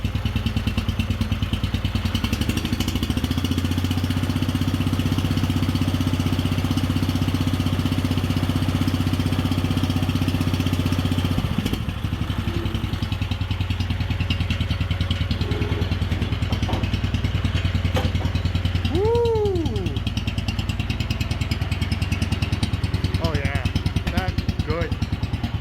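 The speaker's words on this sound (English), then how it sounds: "this is the first time in 2 years that this tractor's been started" A Wheel Horse 857 garden tractor engine runs at a steady, throbbing idle for the whole stretch as it warms up, loud and close, while someone talks over it.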